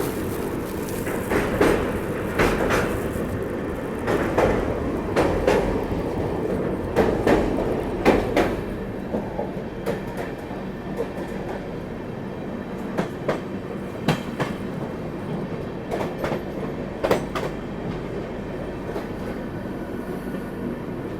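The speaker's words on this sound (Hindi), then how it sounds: "धीरे से ही सही पर यहाँ पे पहला ओवरटेक हम लोग कर रहे हैं सुहेल देव सुपरफास्ट को।" Delhi–Mizoram Rajdhani Express rolling on the rails, a steady loud rumble with repeated sharp clickety-clack wheel beats over rail joints, heard from inside the coach.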